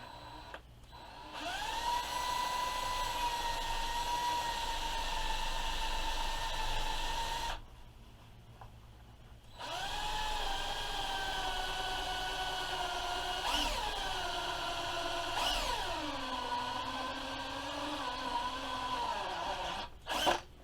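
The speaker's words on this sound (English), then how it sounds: "When it started cutting, I had one dull spot on my step drill." A step drill bores a hole through sheet metal while fitting a new carburetor on a Mantis tiller, a steady loud whine with a brief pause partway before cutting resumes, rising in pitch near the end.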